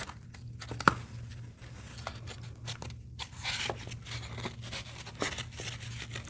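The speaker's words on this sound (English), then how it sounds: "And we'll use the scissors to cut out the cups." Scissors cutting cups out of a brown paper egg carton, a series of crisp snips, tears and crinkles at an irregular pace, close and fairly soft.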